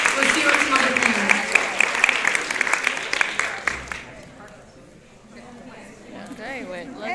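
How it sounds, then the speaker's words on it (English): Audience applause for a panel at an ethics-in-storytelling session at a fan convention, a dense burst of clapping filling the first few seconds before thinning out, with people talking over and after it. "Please give us a round of Thank you. applause for our panelists."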